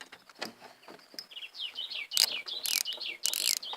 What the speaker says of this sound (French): vous entendez le moulinet, vous allez vous dire qu'est-ce qu'il nous prépare